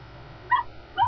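A dog in the video game The Cave gives two short, soft whimpering yips, brief and separated against a quiet, muffled game background.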